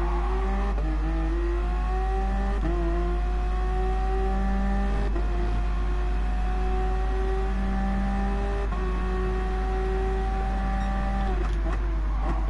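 A race car in Gran Turismo Sport runs on track with a loud, steady engine whine, and the pitch falls and climbs again several times as it brakes into corners and accelerates out.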